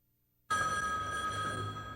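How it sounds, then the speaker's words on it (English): A telephone in a police homicide office starts ringing abruptly after a moment of silence, its bright, bell-like electric ring sustained loud and close with a steady tone. "The phones at Buffalo's homicide office have been ringing with tips from the public"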